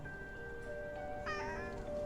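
A cat meows in a haunted-house adventure game setting, a short harmonic call rising over steady background tones and ambient music, with no talk.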